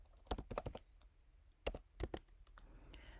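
Keystrokes on a computer keyboard as a short remove command is entered at a command line, arriving in quick clustered bursts separated by brief pauses, close and fairly quiet with no talking.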